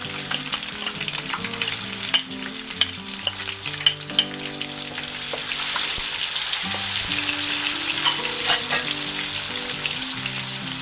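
Onions frying with garlic in a hot pan for adobong pusit, a steady close sizzle that grows denser partway through, with occasional clinks and stirring scrapes and no talking.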